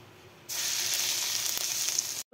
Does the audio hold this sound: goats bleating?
no